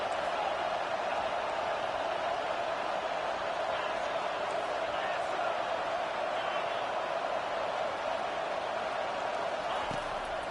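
A stadium crowd in an NCAA college football video game roars as a constant, dense wash of cheering noise throughout, with no clear breaks.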